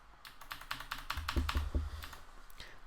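Soft, close keystrokes on a computer keyboard as a short file name is typed, a quick uneven run of taps at low volume with no voices.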